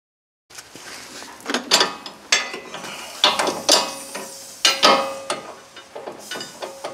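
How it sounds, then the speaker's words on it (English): A strut end link being tightened on a 2009 Honda Odyssey, heard as a series of close, sharp ratcheting clicks in uneven bursts, with short pauses between strokes and no voices. "tighten my end link here, get that in place."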